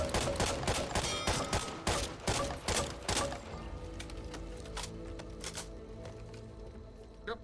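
M14 rifle with a 10-round magazine firing in Back 4 Blood: a rapid string of sharp, evenly spaced shots, loud at first, then quieter and more scattered shots with game noise behind them.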